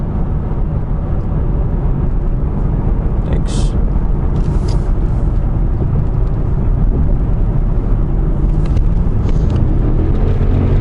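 Mercedes S-Class W221 engine roaring as the car accelerates hard: a loud, dense, continuous low drone from inside the cabin, steady throughout with a slight rise in pitch near the end.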